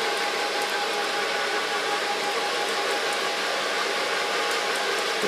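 A hair dryer blows hair dry at a salon, a loud, steady, unbroken whoosh of airflow with a constant motor whine throughout and no talking.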